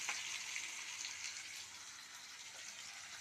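Tomato and drumstick pieces go into a pan with onion and green chili, giving a steady, soft hiss of frying that fades slightly toward the end, with no talk.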